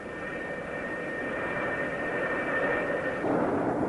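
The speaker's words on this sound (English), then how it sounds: "the deck director signals the pilot to run his engines up to takeoff power" Twin jet engines of an F-4B Phantom II aboard the aircraft carrier USS Forrestal spool up to takeoff power, a loud steady roar with a whining tone that swells slightly toward the end.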